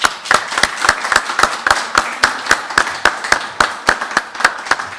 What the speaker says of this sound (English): I wish to ask all of us to give you a round of applause.